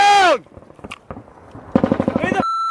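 Gunfire in a firefight in Afghanistan: a quick, close burst of sharp cracks follows a shout, and voices call out around the shots.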